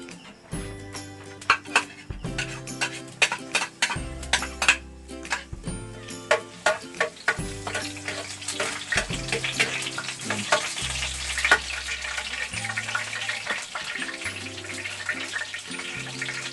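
Onion and garlic frying in hot oil make a continuous crackling sizzle, with occasional stirring sounds, over steady background music.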